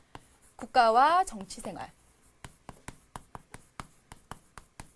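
Marker or chalk strikes a board during a Korean high school lecture on state and political life, a quick run of evenly spaced taps and strokes following a short spoken phrase by the teacher.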